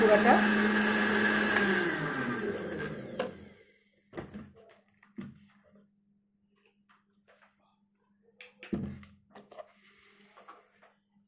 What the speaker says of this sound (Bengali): আমি আর একটু ব্লান্ড করে নিচ্ছি যাতে